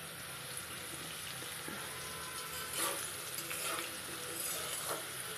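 Fish frying in oil in a pan gives a steady, close sizzle and hiss, with occasional brief spatters rising above the constant crackle and no voices.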